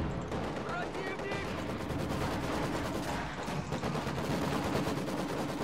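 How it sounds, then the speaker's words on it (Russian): Constant rattling gunfire and mortar blasts from the World War II strategy game Company of Heroes 2 fill the whole stretch, dense and steady with frequent sharp reports, while voices talk over the combat. "Миномет вот здесь долго задрал, вот здесь."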